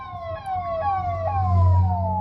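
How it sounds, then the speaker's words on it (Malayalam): A wailing ambulance siren sweeps up and down in repeated cycles, fairly close, over the low rumble of night traffic. "എവിടെയോ ആംബുലൻസ്"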